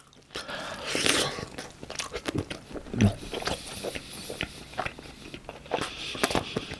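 BHC cheese sticks are bitten and chewed close up, with repeated crisp crunches and wet mastication in an irregular rhythm, loud and intimate, with no talking.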